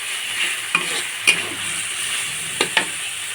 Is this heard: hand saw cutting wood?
no